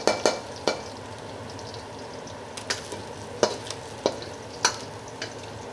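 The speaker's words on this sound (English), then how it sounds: "I'm just gonna let that garlic sizzle in that oil" Steady crackling sizzle of garlic frying in oil in a wok, with occasional sharp clinks and scrapes of a utensil stirring the pan.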